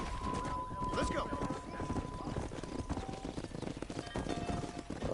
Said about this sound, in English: Drive him down the road, Mr. Marston. Giddy up